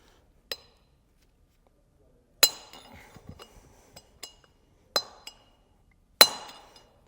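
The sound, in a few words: hammer driving bearing race out of trailer hub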